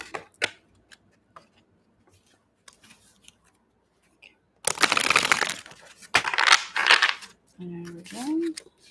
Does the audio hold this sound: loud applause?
no